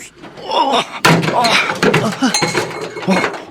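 A door forced open with a piece of iron, a sharp metallic bang and clatter of thuds and clinks in a dark villa room, with people talking loudly over and around the noise.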